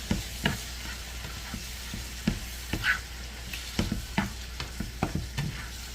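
Chopped beef sizzles steadily in about two tablespoons of butter in a pan, a constant frying hiss punctuated by regular scraping taps of a utensil stirring and turning the meat close by.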